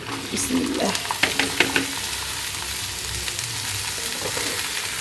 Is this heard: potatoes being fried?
yes